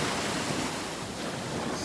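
Sea waves wash onto the shore at Okurcalar on the Turkish coast, a steady broadband surf roar with wind buffeting the microphone, continuous and fairly loud with no voices.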